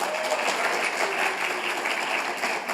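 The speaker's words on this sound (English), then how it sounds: "Could we give them a round of applause?" Audience applause for a conference tech team at a medical database meeting, a dense, steady wash of many hands clapping from start to end, fairly loud, with no talk over it.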